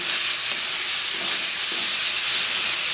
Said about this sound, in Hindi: देखिए, टमाटर प्याज भून रहा है